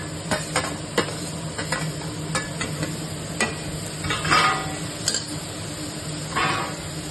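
Tomato and curry leaves fry in a pan for pepper chicken, giving a steady low sizzle with irregular scrapes and light clinks of a stirring spoon against the metal.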